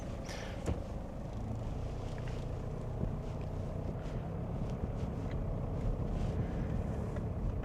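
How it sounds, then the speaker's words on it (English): A 1999 Toyota Hiace KZH106 van with a 3-liter turbo diesel, driving along as a steady low cabin rumble with road and wind noise, fairly quiet and even throughout. "Quiet driving experience, considering this is a 3-liter turbo diesel."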